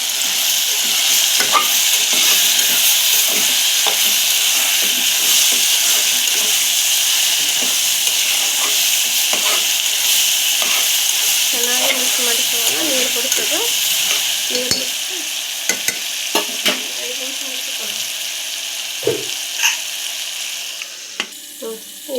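Eggplant palya frying in a pan sizzles loudly and steadily, broken by repeated scraping stirs and clinks of a utensil; the sizzle fades later, leaving sparse knocks and stirring.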